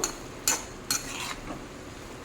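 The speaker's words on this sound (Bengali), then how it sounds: "একবার ভালোভাবে নাড়িয়ে মিশিয়ে দেব।" Spiced vegetables are stirred in a pan over a low flame, with a utensil scraping and clinking against the metal in a few separate strokes, close up and alone.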